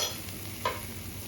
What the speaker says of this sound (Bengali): আলুগুলো দিয়ে একটু নেড়ে আমি দিয়ে দেবো এর মধ্যে জল।